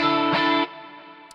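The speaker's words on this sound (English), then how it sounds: "the modern chorus sound that sounds really wide and really full" Electric guitar run through a wide modern chorus patch on a Quad Cortex, a sustained shimmering chord ringing loud and full before cutting off abruptly into a faint tail.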